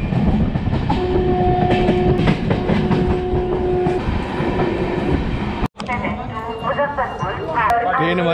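Train running into Madhupur junction, a loud rumbling rail roar with clattering wheels and a sustained horn tone early on, then a sudden cut to busier mixed station and carriage noise, with speech over it.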